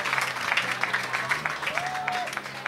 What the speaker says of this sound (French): Serigne Moustapha Djamil Seye, qu'on applaudit très fort.